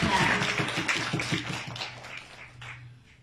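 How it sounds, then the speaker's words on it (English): A small audience gives another round of applause at a talk, claps rising briefly then fading to scattered taps, moderately close. "give another round of applause to accounting"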